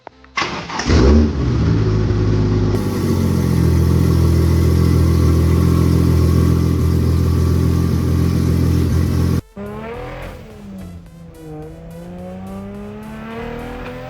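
A Barra-swapped Navtrol fires up and revs hard, holding a loud steady roar for several seconds before the throttle drops sharply. It then settles into a rougher, fluctuating idle with wavering pitch.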